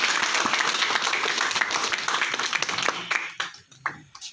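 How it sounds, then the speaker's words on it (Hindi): A crowd at a gathering breaks into loud, dense applause that fades into scattered individual claps near the end. "एक बार तालियां जोरदार"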